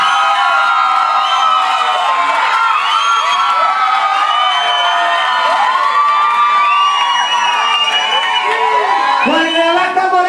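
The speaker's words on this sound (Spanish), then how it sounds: "¡Aplausos aquí para el michoacano!" Lively crowd cheering, whooping and shouting with high excited voices, steady and loud for the whole stretch at an outdoor show by a river, with no clear clapping standing out.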